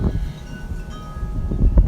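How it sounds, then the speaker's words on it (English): Strong wind buffets the microphone outdoors, a low rumbling roar with gusts that swell toward the end. "It's really windy outside"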